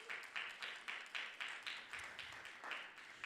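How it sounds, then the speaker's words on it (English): Several people clap in a steady, even rhythm, a modest round of applause for discussion group coordinators at a university institute event, heard at a moderate distance with no talking. "Can we give them a round of applause, please?"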